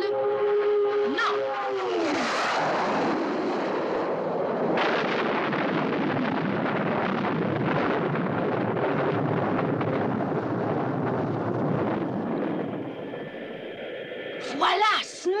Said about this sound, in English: Firing missile. Now!